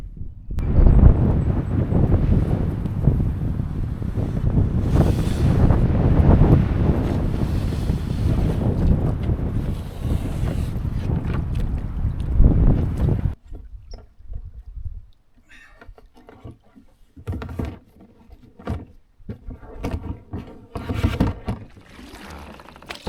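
Kayak paddled around a pond on a windy day with a light southerly breeze: heavy, steady wind buffeting over water for the first half, then quieter intermittent splashes and paddle strokes.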